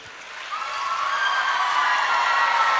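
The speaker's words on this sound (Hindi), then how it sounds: "अब आप अपने लिए लास्ट में ताली बजा दो जोर से।" An audience at a school's annual cultural festival claps loudly. The clapping starts moderate and swells into a sustained, dense round that holds to the end.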